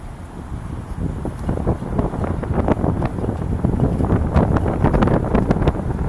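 Strong wind buffets the microphone during a walk along the Grand River, a loud continuous low rumble with gusty thumps that build toward the end, heard alone without talk.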